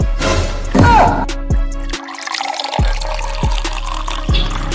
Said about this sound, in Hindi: अरे मामा नहीं गिरेगा, मैं ढाल रही हूँ